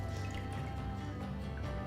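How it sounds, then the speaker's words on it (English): Water drips from a freshly squeezed kokedama moss ball, a few soft, scattered drops and trickles that sound quiet and close against a faint background hum. "You gotta give it a good squeeze, get all the water out"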